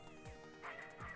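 A dog in the video game Snatcher barks twice in quick, synthesized yips over a steady electronic game drone, heard faintly and alone.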